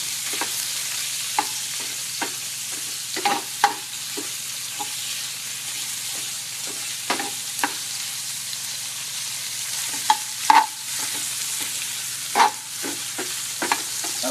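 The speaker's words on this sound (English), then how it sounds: "Finish cooking that steak up right there." A steak fries in a hot pan with a steady broadband sizzle, broken by repeated sharp spatters, scrapes and taps of a utensil stirring or turning the meat, fairly close and with no one talking.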